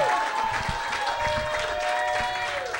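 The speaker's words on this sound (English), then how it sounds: "clap for Lori and all the other comics that's on the show" A comedy club audience claps for the comics on the show, giving sustained applause that stays loud and even for the whole stretch. Some crowd voices mix into the clapping.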